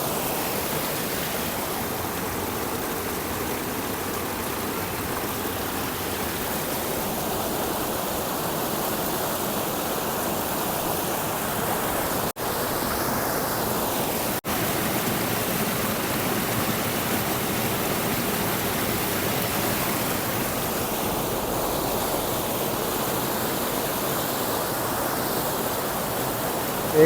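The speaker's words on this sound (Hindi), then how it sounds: "भैया देखो जबरदस्त वाटरफॉल है" Steady roar of a mountain waterfall near Sissu, Himachal Pradesh, a continuous broadband wash of falling water running unbroken throughout at close range, with no voices.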